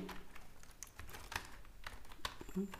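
Computer keyboard typing while writing code, irregular soft keystrokes at close range, fairly quiet with scattered clicks and no speech.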